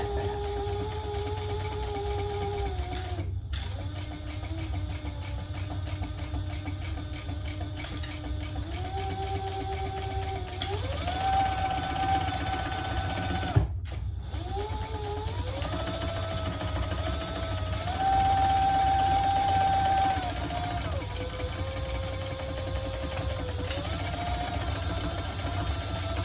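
A sewing machine bastes a pocket onto a faux leather bag piece, its steady motor whir running continuously with pitch shifts as speed changes and two brief pauses, close and alone.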